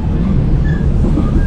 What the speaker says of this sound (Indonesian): Kereta api lokal Bandung Raya tiba di stasiun Pleret.